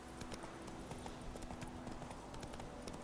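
Horse hooves clip-clop at a steady galloping rhythm in The Witcher 3, continuous and fairly close across the whole stretch over a constant game background hum.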